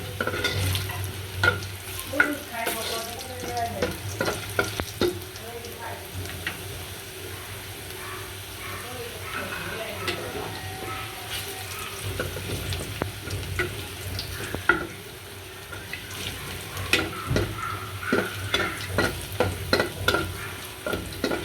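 Onions sizzle in a pan while being fried for dal, with a steady frying hiss and frequent scraping stirs against the pan throughout.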